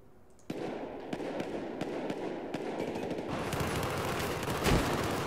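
Battlefield 4 multiplayer combat with RPG rocket fire and explosions: a dense barrage of sharp gunfire cracks and blasts that starts abruptly, builds into a louder wash of fire, and ends with a heavy low boom near the end.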